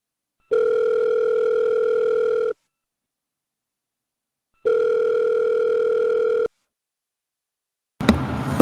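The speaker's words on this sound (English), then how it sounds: "I got a phone call to take care of." A telephone ringback tone for an incoming call sounds in two long, steady, loud beeps of about two seconds each, separated by silence, followed by a brief burst of noise as the call is picked up.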